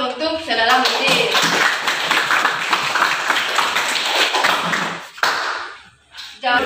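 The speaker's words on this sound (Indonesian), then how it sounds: "Berikan aplaus dulu" Classroom applause at a school discussion session, a dense burst of many hands clapping continuously for about five seconds before tapering off, with brief voices near the end.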